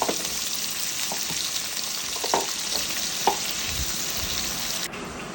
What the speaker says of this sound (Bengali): আলু যখন প্রায় ভাজা ভাজা হয়ে আসবে